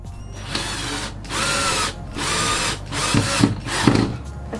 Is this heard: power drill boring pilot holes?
yes